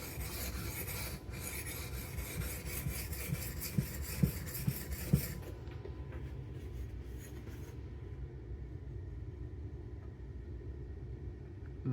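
A knife blade in MagnaCut steel is worked along a sharpening stone, giving a steady rasping scrape that stops about halfway through, leaving near silence with faint traces of scraping.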